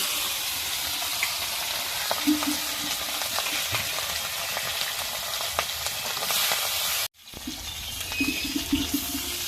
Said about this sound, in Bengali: মাছগুলো ভেজে নেবো লাল লাল করে, কড়া করে ভুজবো